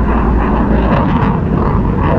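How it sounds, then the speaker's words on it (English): A jet aircraft in a video game roars past, loud and steady with a broad rushing engine drone and no gaps. "I need to catch up to that jet"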